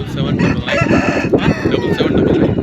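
At a busy hen market a rooster crows loudly and close by, while other fowl cluck around it and a murmur of market voices fills the background.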